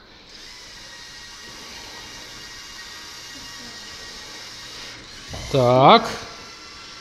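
A small educational robot whirring along on its motor in a classroom, a faint steady mechanical hum that rises into a louder buzzing whine near the end, with a brief spoken word.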